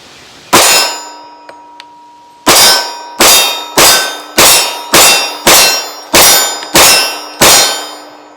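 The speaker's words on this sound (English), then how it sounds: "So here we go, first shots through it." A Taurus G3c .40 S&W pistol fires ten loud, sharp shots, first a single shot and then nine in a steady, quick rhythm, each followed by a short metallic ring.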